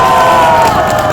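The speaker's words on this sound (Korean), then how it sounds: "우리 이영규 부회장 다시 한번 큰 박수를 보내주시기" An outdoor political rally crowd roars and cheers loudly for a vice-chairman, a sustained dense mass of voices with faint applause mixed in.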